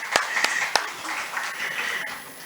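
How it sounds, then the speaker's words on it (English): Applause breaks out at a women-in-science seminar, opening with a few loud, distinct claps that spread into a continuous mid-level patter of many hands from the audience. "a round applause to IPS Academy"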